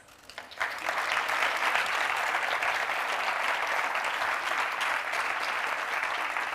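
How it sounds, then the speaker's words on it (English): An audience at a pitching competition in Lisbon bursts into sustained applause welcoming a speaker, dense steady clapping that swells within the first second and holds evenly to the end. "So I would like you to welcome with a huge applause the Vice President of UIB, Ricardo Mourinho Félix."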